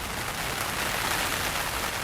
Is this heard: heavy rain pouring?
yes